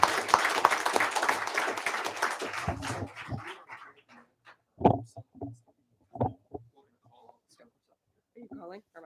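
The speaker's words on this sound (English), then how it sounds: "she deserves a round of applause for that" Audience applause at a county board of education meeting honoring a softball coach: a few seconds of fairly close clapping that dies away, followed by scattered voices and isolated sounds in a quiet room.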